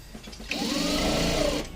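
Sewing machine stitching a banian, a close, steady mechanical whir of rapid stitching that starts after a few faint clicks and runs continuously to the end.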